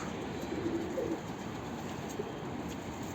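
Pigeons in a coop give a few soft, low coos, faint against a steady background hiss, with no voices.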